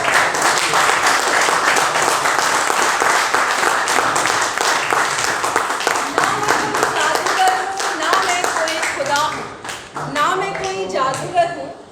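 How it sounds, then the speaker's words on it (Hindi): Loud, sustained applause from a theatre audience fills the space with dense clapping, then thins out toward the end as a voice begins speaking over the fading claps. "जोरदार तालियां"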